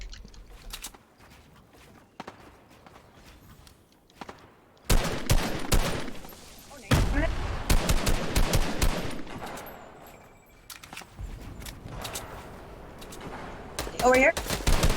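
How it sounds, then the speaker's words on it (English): Gunfire in a multiplayer shooter video game, bursts of rapid shots and scattered single cracks over several seconds, mixed under game noise and people talking. "we're getting shot from a different direction."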